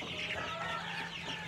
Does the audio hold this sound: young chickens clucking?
yes